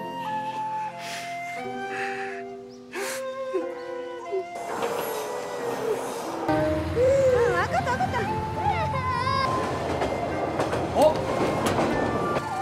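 A train pulls away from a station, with rumbling, clattering carriages building into steady rail noise under music and a rising tonal wail, loud and continuous.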